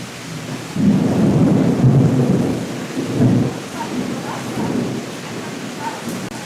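Thunder rumbles during a storm, a deep rolling boom that swells and fades over several seconds under steady rain, fairly close and loud.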